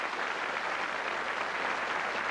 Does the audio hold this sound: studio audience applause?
yes